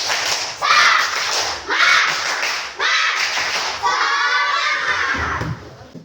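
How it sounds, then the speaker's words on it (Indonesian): In an Indonesian classroom, children perform a 'tepuk semangat' clapping chant, with rhythmic bursts of claps and loud shouted voices in several distinct phrases, close and energetic. "mari kita tepuk semangat terlebih dahulu ya"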